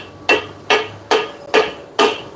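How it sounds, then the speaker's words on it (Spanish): A sledgehammer strikes the front axle king pin of a Kodiak cargo truck in a repair shop. Five sharp metallic blows land at a steady rhythm, close and loud, with short pauses between them. "Dale un poquito con la maceta."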